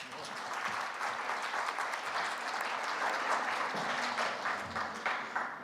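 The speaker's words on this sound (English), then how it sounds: "Ladies and gentlemen, please give him a big round of applause." An audience at a Korea Maritime Week conference session applauds a speaker, a steady, even wash of clapping from many hands that stays at one level for about six seconds.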